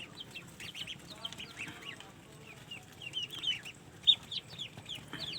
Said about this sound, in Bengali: এই মুরগির বাচ্চা পানি খাইতেছে, হ্যাঁ মুরগির বাচ্চাগুলো পানি খাইতেছে।